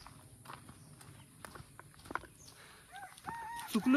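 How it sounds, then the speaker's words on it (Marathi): A rooster crows toward the end, faint and somewhat distant, after scattered footsteps and soft clopping sounds in a quiet village setting on a trail to a hill fort. "इकडे कोंबडी वरडते"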